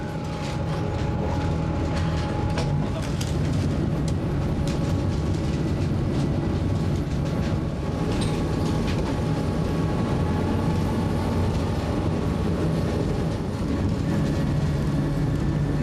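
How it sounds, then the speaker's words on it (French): A rail draisine, a small track inspection trolley, runs along a line in the Cévennes in winter, giving a continuous loud mechanical rattle and rumble with clanks and squeals throughout, and no speech. "l'équipe de la voie s'embarque dans la draisine sans l'ombre d'une appréhension pour une tournée on ne peut plus ordinaire"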